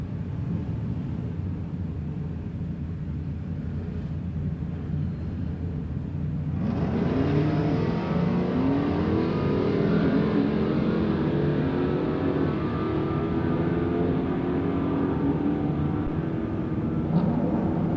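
A Dodge Challenger and a Chevrolet Chevelle at a Wednesday night drag racing event, heard as a distant steady engine drone that jumps abruptly into a louder, sustained roar with rising engine tones as the cars launch down the strip.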